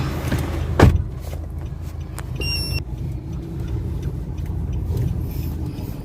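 A Nissan Calibre on a test drive, its engine and cabin noise a steady low rumble, with a thump near the start and a short whirring mechanism partway through.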